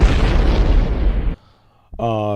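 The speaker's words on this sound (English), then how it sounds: "Let me drop an explosion for them." A booming explosion sound effect played on a podcast, loud and rumbling for over a second before cutting off abruptly, followed after a short silence by a voice.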